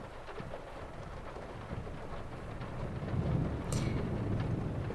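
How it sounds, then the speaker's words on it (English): Steady rain falls during a thunderstorm, a dense continuous hiss with a low rumble of thunder swelling partway through, heard from inside a car. "The rain can be scary sometimes."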